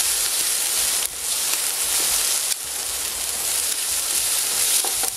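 Onions frying in a pan, a steady close sizzle and hiss with occasional stirring scrapes, no voices.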